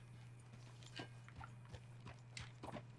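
Hooves of a Kentucky Saddler horse in Red Dead Redemption 2 clip-clopping at a walking pace, a run of soft, fairly distant hoof clops over a low steady hum.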